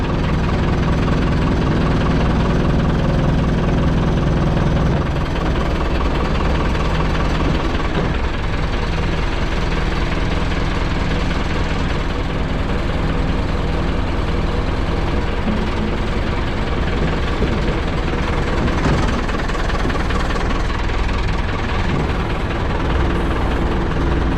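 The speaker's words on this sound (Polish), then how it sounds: "Tutaj włączyłem pompę hydrauliczną." A hydraulic pump on a bucket lift truck runs steadily for the whole stretch, a loud, even mechanical drone with a low engine-like rumble and no pauses.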